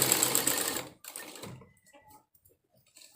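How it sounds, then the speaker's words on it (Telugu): A sewing machine stitching blouse fabric runs in a steady, fast, close-up burst for about a second, then stops, leaving a few faint clicks and handling sounds. "ఒక కుట్టు అనేది మనం వేసుకోవాలండి. ఇలా మనం కుట్టేసుకోవాలండి."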